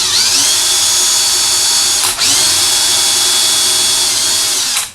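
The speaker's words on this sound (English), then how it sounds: "this is going to drill a couple of them" A power drill on a workbench boring into sheet metal for a screw, running loud and steady close up for about two seconds, a brief pause, then a second continuous run that stops near the end.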